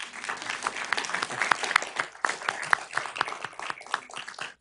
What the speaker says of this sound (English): I now will allow the audience to applaud